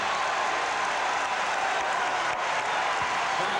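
Basketball arena crowd cheering and applauding during a 1996 NBA Finals game between the Chicago Bulls and the Seattle SuperSonics, a dense, steady wash of noise with commentary faint underneath.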